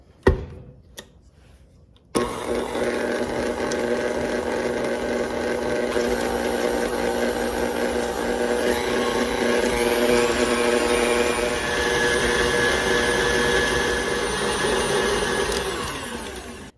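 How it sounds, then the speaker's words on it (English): KitchenAid stand mixer whisking sugar cookie dip with its whisk attachment, a loud steady motor whir that starts abruptly after a few clicks and runs continuously for the rest of the stretch, close by with no talk. "The recipe says to use a mixer, so I'm going to use my KitchenAid. I'm using the whisk paddle to whisk it up well."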